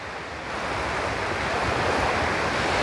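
Black Sea waves breaking on the shore at Samsun on a rough, choppy day: a steady, loud wash of surf with wind rumble that builds slightly and continues without a break, with no voices.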